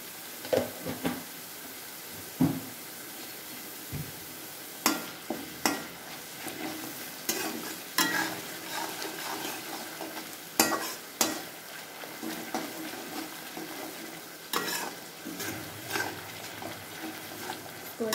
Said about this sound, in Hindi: तो अच्छे से भूनेंगे मसाला को अच्छे से।